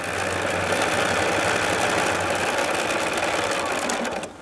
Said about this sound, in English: the edge of my 1/4 inch foot's going to line up on the drawn line, and I'm just going to stitch down.